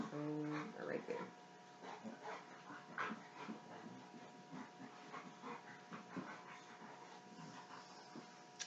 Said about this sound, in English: I have dogs in the background being rude.